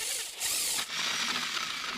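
Drilling holes into a PVC pipe fitting for a homemade water pump, a steady close whine of the bit cutting through plastic with a brief high burst partway through and no talk.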